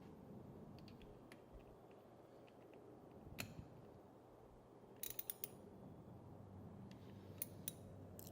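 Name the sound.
tightening nuts on a Mercedes fuel pump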